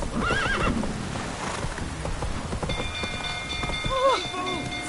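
Horse neighs twice from a mount in The Witcher 3: Wild Hunt, with steady clip-clop of hooves under a stormy rain bed, plus a faint chiming tone over the latter half.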